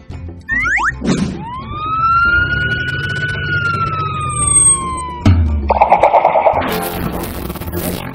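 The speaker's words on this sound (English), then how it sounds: "Police car." A police car siren wails in long rising and falling tones, loud and close, followed by a brief thunk and a burst of mixed noise.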